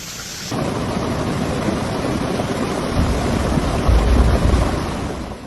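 Rumbling thunder rolls under steady heavy rain during a violent storm in Whitby, with a broad continuous roar that swells louder toward the end and no speech.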